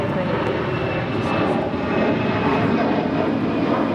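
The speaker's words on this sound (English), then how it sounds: "This is Allegiant Air Flight 372 taking off to Cincinnati on an A319" An Allegiant Air Airbus A319 takes off at LAX, its engines a loud, steady broadband roar that holds throughout, with faint voices in the background.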